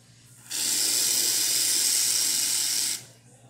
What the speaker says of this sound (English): And then lastly, hot water tap.